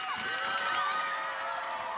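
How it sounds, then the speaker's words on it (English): A local roadside crowd cheers as the final rider sets off on stage 5 of the 2015 Tour of Denmark cycling race, a steady, bright wash of cheering and shouting sustained throughout. "Listen to the cheer."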